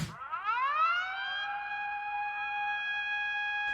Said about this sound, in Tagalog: Pinutunog ang mga sirena sa iba't ibang coastal area para balaan ang mga residente na lumikas.